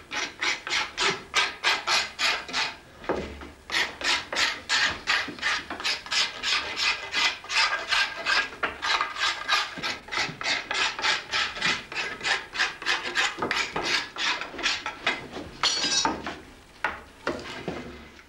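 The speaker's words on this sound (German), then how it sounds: "Mit der Ziehklinge werden die scharfen Kanten gebrochen, um Beschädigungen am Leder zu vermeiden." A card scraper rasps along the sharp edges of beech wood being shaped into a saddle tree, producing steady repeated scraping strokes, close and fairly loud, with no talking.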